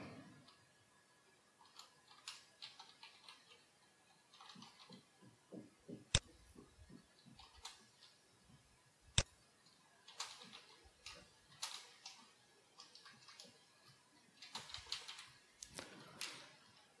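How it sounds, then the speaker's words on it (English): Name being typed on a computer keyboard, with quiet, irregular key clicks in short bursts and a couple of sharper isolated taps, faint and without talk. "Let me type some name here."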